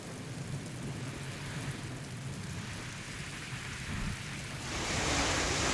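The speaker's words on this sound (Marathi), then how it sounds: "वादळी वाऱ्यासह जोरदार पावसानं हजेरी लावली" Heavy rain falls with stormy wind, a dense steady roar of downpour that swells louder toward the end, with no voices.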